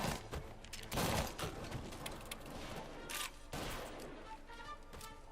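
Gunfire rings out in the Mafia Definitive Edition video game: several sharp, loud bursts of shots at irregular intervals, set over a busy background of game ambience.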